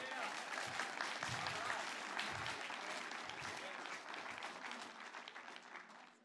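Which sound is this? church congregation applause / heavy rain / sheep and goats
church congregation applause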